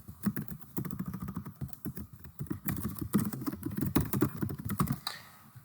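Keystrokes on a computer keyboard as a new board name is typed: a steady, close patter of rapid clicks running for several seconds, with no voices.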